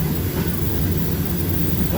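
Loaded coal freight train rolling past at close range, a steady low rumble and broadband roar of wagons that holds evenly throughout, with no voices.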